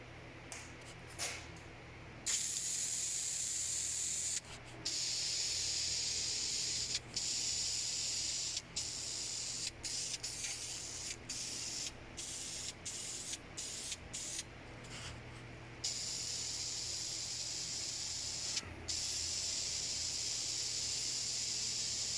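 Aerosol spray paint hisses in long close bursts over welded Mustang II front suspension parts, each burst broken by short pauses and a few rapid stop-start taps, with no talk.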